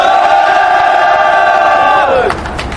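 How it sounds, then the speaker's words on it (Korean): A large crowd at a street protest shouts together in one loud, sustained roar, then the cry breaks off and fades into scattered noise. "큰 소리로 함성을 지으세요"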